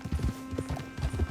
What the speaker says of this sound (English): Get a hold of that horse, will you?